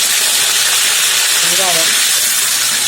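Cumin and curry leaves sizzle in hot oil for a brinjal stir-fry, giving a steady, close frying hiss throughout, with a brief voice speaking over it midway.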